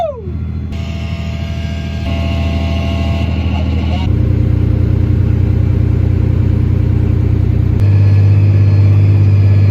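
Old 85 tractor hauling a loaded grain cart up slight hills, its engine giving a loud, continuous rumble that deepens and strains as the load climbs, with a person talking close by over the drone.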